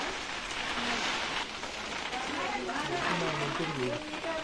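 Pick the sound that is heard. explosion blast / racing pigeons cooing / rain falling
rain falling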